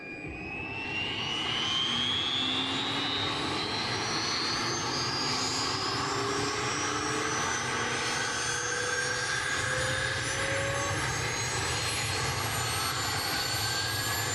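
A CH-47D Chinook helicopter engine spooling up in MSFS2020, a loud continuous turbine whine rising steadily in pitch over a dense roar, sustained throughout with no talk.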